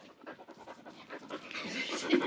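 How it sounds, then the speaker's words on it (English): A dog pants rapidly and close by in quick, rhythmic breaths, with an excited yelp or bark cutting in near the end at a living-room distance. "So they're barking"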